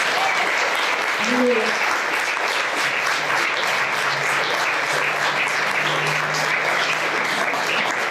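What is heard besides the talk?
applause for Jesus in church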